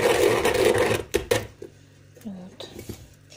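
A hand pepper grinder crunches peppercorns in a close, dense rasping burst, followed by a few quieter scrapes and clicks as it is turned.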